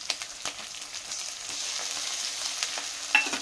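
Cumin paste frying and being stirred in a pan, a soft steady sizzle with light scraping strokes and a small clink at the end, heard alone.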